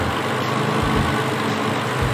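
Aston Martin DB6 with a roughly 4000cc straight-six engine and triple Weber carburettors idling with the bonnet open, a steady, close, low rumble without break.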